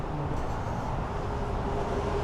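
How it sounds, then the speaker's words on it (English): Steady road traffic noise rumbles continuously near Graphite Mine Road beside an old covered bridge, a broad, constant wash of passing cars at moderate distance with no break. "Apologize for the road noise."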